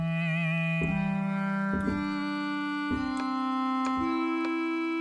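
A synthesizer physical model with bowed excitation holds sustained, gently wavering pitches, sliding into a new note roughly every second, with soft scraping onsets and no voices.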